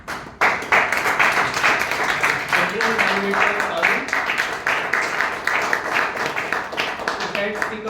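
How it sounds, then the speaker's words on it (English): A seated audience claps steadily for several seconds while a voice announces names over the applause. "I would ask every one of you to give a round of applause."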